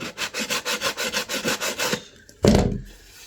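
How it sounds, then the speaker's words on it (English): Sandpaper rubs rhythmically back and forth along the edge of an MVF board, about a dozen quick even strokes close up, then a pause and one sharp scraping knock. "Sandpaper will just help you to make everything neat."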